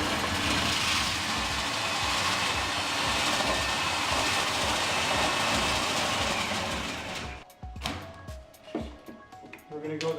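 Power drill spinning a chimney cleaning rod inside a chimney flue, a loud continuous whirring and scraping rumble that cuts off partway through, leaving knocks and handling sounds, with someone speaking over it.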